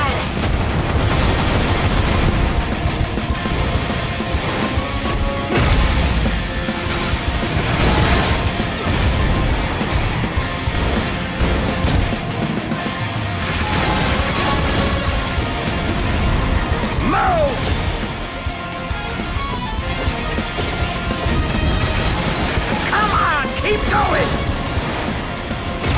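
Missile attack explosions and heavy gunfire in the video game F.I.S.T., a dense, loud barrage of blasts and crashes that continues without pause, with mechanical clanks mixed in.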